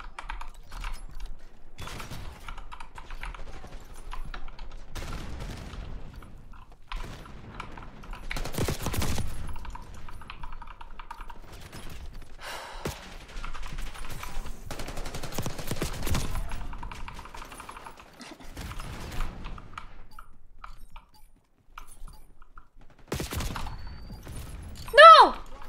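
Gunfire in Call of Duty: Black Ops 6, repeated rapid bursts and single shots spread across the stretch at moderate loudness, mixed with keyboard clicking and a person talking.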